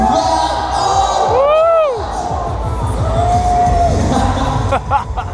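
A large crowd at an indoor cycle stunt show at the NEC cheers and whoops as riders perform tricks. Loud, sustained roaring is topped by rising shouts and exclamations, then falls off slightly before another burst near the end.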